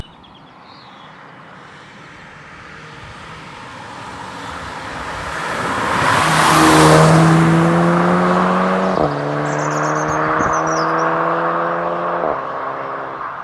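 A Mk6 Volkswagen Golf GTI Edition 35 engine with synthetic sound enhancement builds from a low hum into a loud rising whine, with smooth gear changes stepping the tone down as it accelerates past.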